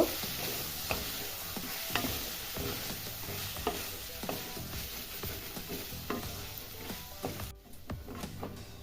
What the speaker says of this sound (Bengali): আলুটা মশলার সাথে ভালোভাবে একটু কষিয়ে নিব।